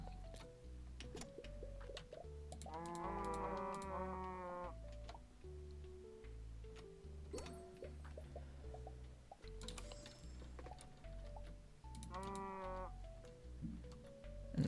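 Cattle mooing in the farming video game Terracards, several drawn-out moos rising over steady, looping background game music with ticking sounds.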